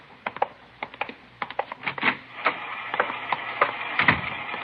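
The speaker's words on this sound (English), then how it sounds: "She's running all the cards on previous shooting through the IBM machine." IBM punch card machine running in an old radio police drama, a rapid series of clattering mechanical clicks and card-feed rattles that grows busier and louder, heard alone with no speech.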